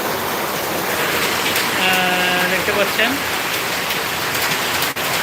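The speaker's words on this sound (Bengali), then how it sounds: "আমার বাসা দেখেন কী পরিমাণ বৃষ্টি করতেছে অসাধারণ বৃষ্টি করতেছে" Heavy rain pours down around a house, a dense, steady hiss that fills the whole clip while someone speaks briefly over it.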